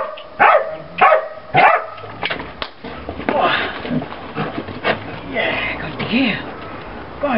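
A puppy barking in several sharp, loud yips with whimpering and panting between them, close by, while a person talks to it intermittently.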